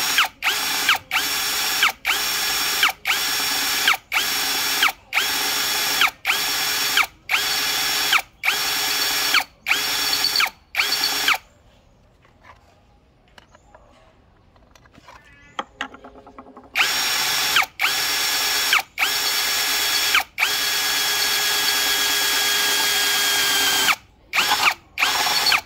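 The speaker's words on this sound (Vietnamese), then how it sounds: "Khoan sắt thì các bác phải châm dầu vào nhá" Dekton 13mm power drill boring into iron, with repeated short bursts of high motor whine separated by brief pauses, a quieter stretch in the middle, then more bursts and a longer continuous run near the end. Loud and close.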